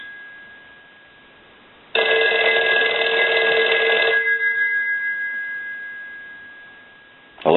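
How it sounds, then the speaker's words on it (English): A Western Electric 302 rotary desk telephone bell rings loudly in one sustained metallic burst of about two seconds, then fades as the next ring begins at the end. "we'll go ahead and plug the telephone in, and we'll ring it"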